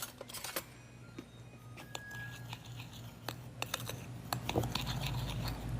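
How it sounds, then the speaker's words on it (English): Sugar, baking powder and flour being stirred together in a bowl: soft scraping, gritty scratches and occasional clinks, close and fairly quiet, with no talking. "I have here some sugar, some baking powder, some flour. I'm gonna stir all that together."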